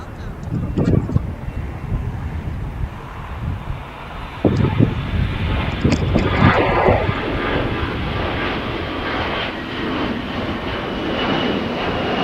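An Air Canada jet departs runway 25 on the south side of LAX, its engine roar building into a loud, sustained rumble with wind buffeting the microphone. A voice talks over the first seconds.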